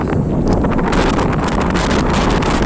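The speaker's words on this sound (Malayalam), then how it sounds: "ഇവിടെ കാറ്റുണ്ട് പൊടിക്കാറ്റുണ്ടായതുകൊണ്ട്" Strong wind carrying blowing dust roars loudly and constantly at a camel farm in Mecca, buffeting the microphone with heavy gusty rumble and hiss throughout.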